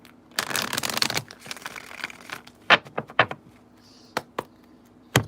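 Tarot cards being shuffled up close: a long riffling burst, then a series of sharp separate taps and flicks as the deck is squared.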